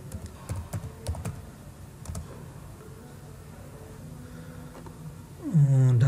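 Bursts of keystrokes on a computer keyboard, quick irregular clicks close by, pausing briefly in the middle, with a short low hum near the end.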